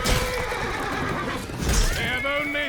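Horse whinnying in Chivalry 2, a close, loud neigh with harmonic wavering over busy battle noise and galloping hooves, followed by a second shorter whinny near the end.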